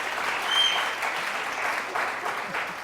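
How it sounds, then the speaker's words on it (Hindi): Warm, steady clapping from a studio audience on a Hindi morning TV show, a moderate wash of many hands that holds evenly throughout without talk over it. "अच्छा तालियां दो भाई इस बात पे।"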